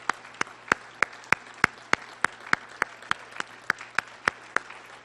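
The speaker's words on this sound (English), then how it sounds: "I think we should just give her a big round of applause for serving us so diligently." A single pair of hands claps at a steady rhythm, about fifteen distinct sharp claps, at a candidates debate where the audience was asked to applaud.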